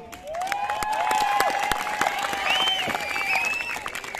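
Audience clapping at a Ramleela club closing ceremony, a steady wash of applause with some crowd noise, sustained and fairly loud throughout.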